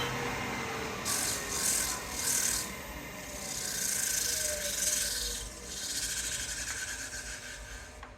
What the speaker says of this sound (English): Been trying to practice my finishing cuts with a bowl gouge on the bottom.